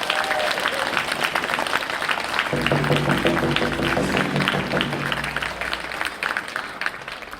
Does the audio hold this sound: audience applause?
yes